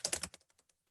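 Quick keystrokes on a computer keyboard: a burst of three or four loud, close clicks, then a handful of fainter, sparser taps trailing off, with no voices.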